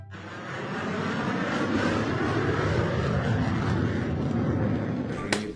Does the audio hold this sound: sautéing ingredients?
no